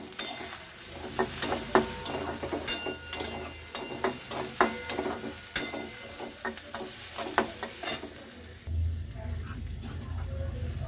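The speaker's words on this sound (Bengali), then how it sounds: "মশলাগুলো যাতে পুড়ে না যায় আর পেঁয়াজটা যাতে সেদ্ধ হয়ে যায় এই জন্য আমি অল্প পরিমাণে জল দিয়ে ভালোভাবে পেঁয়াজগুলোকে সেদ্ধ করে নেবো" Chopped onion sizzling in a pan with ground cumin, coriander, chili powder, salt and turmeric, a spoon stirring and scraping in repeated clicks over steady frying, then a louder hiss near the end.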